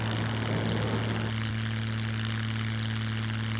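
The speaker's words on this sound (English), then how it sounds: "you can just mouse scroll wheel forward immediately and go for a power launch" Propeller plane engine in the video game Scum spooling up for a power launch, a loud steady droning hum with strong low tones that holds throughout, slightly rougher at the start, with no talking.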